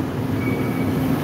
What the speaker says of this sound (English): that is the train that brought me here.